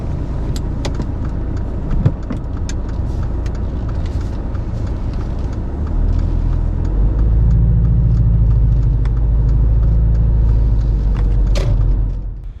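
A learner's car pulls away from a stop during a driving test, its engine rumble rising partway through and holding steady as the car gets under way, then easing near the end, heard from inside the cabin.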